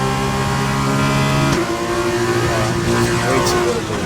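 Formula 2 race cars at a chicane on the Australia round, high-pitched engines screaming close by, with a sudden gear change midway and overlapping engine notes as one car passes another.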